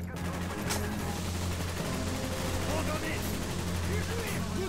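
Dense gunfire rattles through a Call of Duty Black Ops campaign battle, sustained bursts of rapid shots layered over a low rumbling combat backdrop, with voices shouting amid the fighting.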